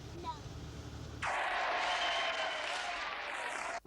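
A studio audience at a Beatles TV special bursts into applause for a balloon. The clapping starts abruptly after about a second, then stays loud and steady to the end, with some faint voices beforehand.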